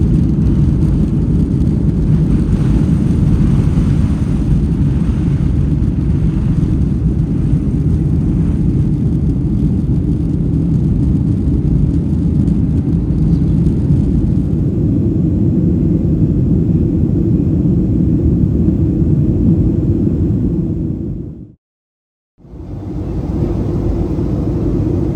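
Airliner cabin during takeoff on a flight from Bangkok to Samui, a steady loud engine roar and rumble sustained throughout, cut by a brief dropout near the end.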